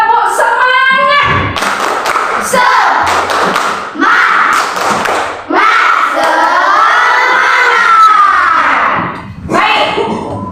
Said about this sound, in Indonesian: Ibu minta tepuk semangat.